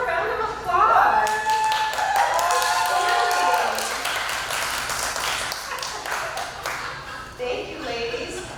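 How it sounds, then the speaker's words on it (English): A crowd claps for a contestant at a pin-up contest: sustained applause from many hands with a whoop or whistle early on, gradually thinning out. "Give her a round of applause."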